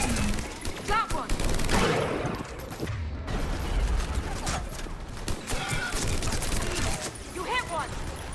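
Rapid gunfire bursts fill a Mass Effect 3 battle on Thessia. The shots come in dense volleys over loud combat noise, and voices call out between them.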